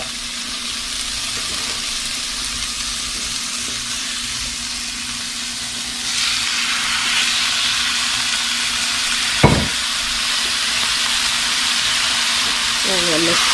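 Steak pieces frying with onions in a hot pan, a loud continuous sizzle that swells partway through, with one sharp knock against the pan and some stirring.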